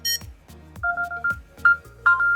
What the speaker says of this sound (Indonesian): handphone kalian akan berbunyi seperti ini